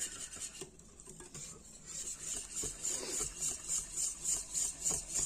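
Egg mixture for leche flan being stirred in a bowl, a steady rhythmic scraping and whisking that grows more regular and pronounced toward the end, close and moderately quiet.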